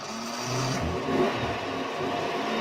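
A truck engine revs outdoors, a steady mid-range drone that swells and holds at a moderate, fairly close level with no talk over it.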